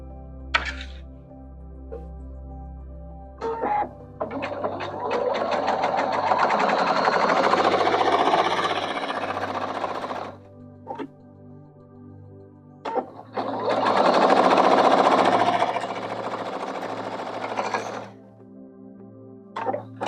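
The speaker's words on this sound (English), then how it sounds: "now I'm going to take this piece and turn it over and sew that together" A sewing machine stitching quilt pieces together runs in two fast, whirring bursts of several seconds each, separated by quieter pauses with small clicks and handling noises nearby.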